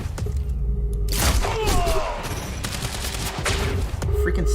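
Sniper fire in Quantum Break, with sharp cracking shots and thuds scattered over several seconds amid game combat noise, fairly loud.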